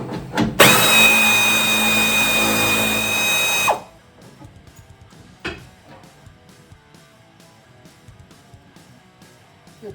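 A power tool with a 7/16 socket removes bolts from a 1970 Dodge Challenger, whirring loudly for about three seconds and then stopping, followed by quiet metallic clinks and handling noises.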